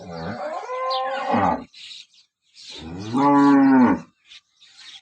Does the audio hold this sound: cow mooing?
yes